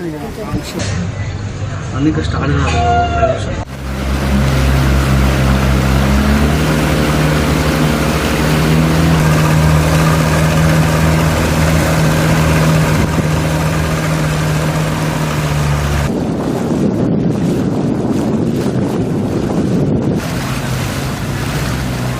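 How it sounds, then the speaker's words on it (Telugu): A boat cruises across Laknavaram lake with a steady, close motor drone, water wash and strong wind buffeting the microphone, and brief voices near the start. "సరస్సులో మంత్రి సీతక్క సహా ఉన్నతాధికారులతో కలిసి బోటులో విహరించారు"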